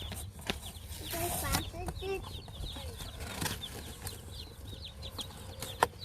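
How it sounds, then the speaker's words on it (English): Broiler chicks in a brooder chirp and peep in quick scattered bursts, fairly close, over a soft background hum and occasional rustling. "raising some broiler chickens again"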